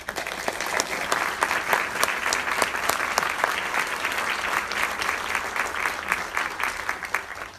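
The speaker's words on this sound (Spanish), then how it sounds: "Por favor, brindémosles un gran aplauso." A theatre audience at a live poetry and performance show applauds steadily and warmly, dense clapping filling the whole stretch at an even level without letup.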